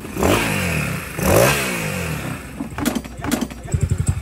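Yamaha NMAX V1 scooter engine bored to 215cc with a new exhaust pipe, revving in close, loud bursts that rise and fall, then settling into rapid choppy pulses.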